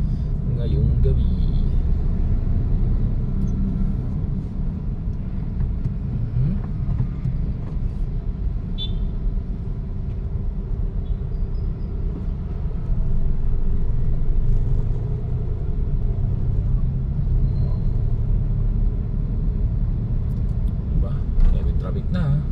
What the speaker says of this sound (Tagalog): Pila ng mga truck ngayong gabi.